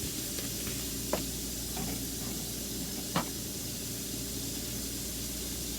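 A minute steak fries in a pan, giving a steady, even sizzle with a soft hiss throughout and a couple of brief clicks or pops. No one speaks.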